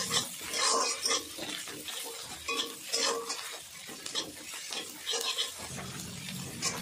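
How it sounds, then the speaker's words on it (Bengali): Ginger paste stirred in hot oil in a pan while cooking a Bengali hilsa fish curry with taro roots, with steady sizzling frying and repeated scraping stirs of a spoon against the pan, close and fairly loud, no talking. "তো এবার আমি দিয়ে দেব আদা বাটা, হালকা নাড়াচাড়া করে নেব।"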